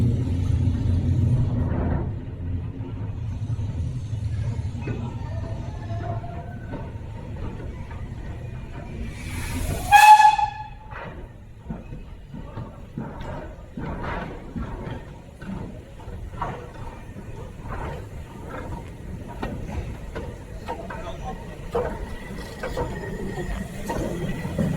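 East Lancashire Railway train rumbling slowly in reverse toward its carriages, a steady low drone with clanks and a brief loud hiss-like burst midway, then continuing rhythmic knocks.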